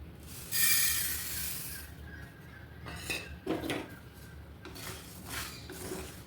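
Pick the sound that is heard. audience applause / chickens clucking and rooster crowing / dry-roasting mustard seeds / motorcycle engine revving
dry-roasting mustard seeds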